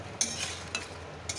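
Split green chillies and tomato stirred in a pan, a few short scraping strokes over a low sizzle, close by and fairly quiet.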